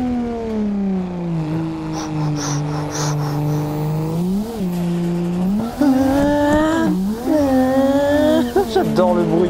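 A 646-horsepower turbo engine on a forklift in a VR game whines and revs up and down with shifting pitch, tire squeal mixed in, while someone talks excitedly over it.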